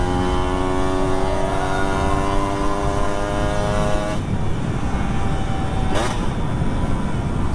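A two-stroke motorcycle accelerates hard along a road in Makassar, its engine pitch climbing steadily for a few seconds, dropping at a gear change, then surging again in a short sharp burst.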